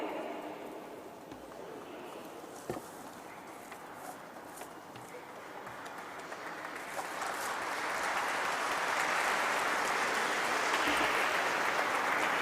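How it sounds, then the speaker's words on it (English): Audience at a company stock-exchange listing ceremony breaks into applause, starting faint and scattered and then building to a broad, sustained clapping that fills the hall toward the end. "Thank you for that spontaneous round of applause, ladies and gentlemen."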